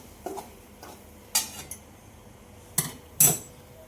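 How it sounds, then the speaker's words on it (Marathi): A metal spoon scrapes and clinks against a cooking pan as masala is stirred and sautéed in oil, with a handful of separate sharp knocks at irregular intervals and no talking. "मसाला चांगला परतून घ्यायचा आपल्याला"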